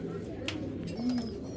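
A white racer pigeon, a male, gives a low, soft coo close by against a steady background hum, with a faint sharper chirp just before it.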